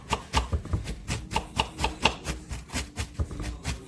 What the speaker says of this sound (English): So this is why he's chopping up the cabbage.